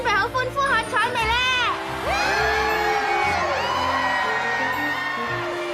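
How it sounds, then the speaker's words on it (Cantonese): An animated crowd at an idol show cheers and whoops loudly, starting with a few rising yells and then swelling into a sustained roar. "大家準備好歡呼喝彩未咧？"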